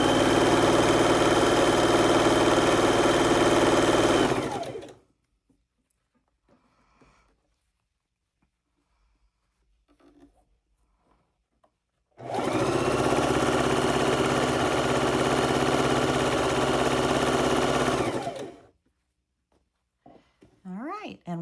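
A sewing machine runs continuously while stitching quilt strips for a log cabin quilt block, giving two loud, even motor-driven runs of about five and six seconds with a quiet pause of faint handling noise between them.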